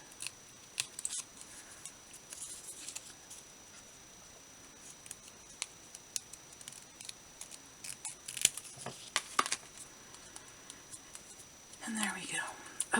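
Scissors trimming a watercolor paper spring card, with several soft, close snips and paper rustles scattered among quiet handling noise.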